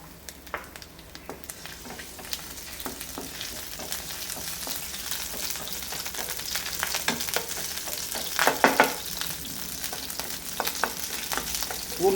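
Garlic frying in a pan for a chicken curry, a steady crackling sizzle with scattered sharp pops and stirring scrapes, close and continuous throughout.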